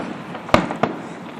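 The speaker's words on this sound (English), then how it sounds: "The fireworks right now are beautiful." Fireworks bursting outside at night during an early Fourth of July celebration, two sharp booms a fraction of a second apart, fairly close, over a low steady background rumble.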